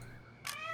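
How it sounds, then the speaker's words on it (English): A cat in the game On the Rain Slick Precipice of Darkness gives a single short, bright meow over a low background hum. "Now we have a cat."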